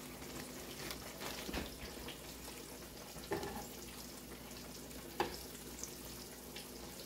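Crappie fillets frying in hot oil, cooked outdoors in freezing weather in Dallas, Texas, give a steady, fairly faint sizzle with a few louder pops and clatters now and then.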